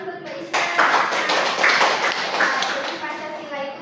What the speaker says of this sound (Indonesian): Tepuk tangan buat Mbak Isna.